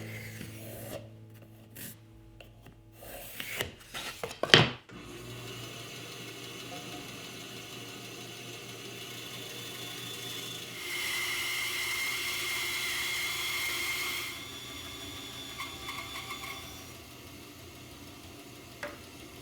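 Bandsaw cutting a taper along wooden bench legs: a steady, moderately loud rasping cut with the machine hum underneath, rising in intensity mid-pass after some sharper knocks at the start.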